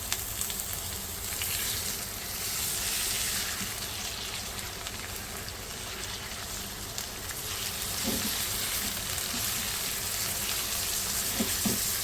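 Half a kilo of coarse, hand-minced beef keema sizzles in a hot pan, a steady broadband frying hiss running throughout with a few soft crackles and pops near the end.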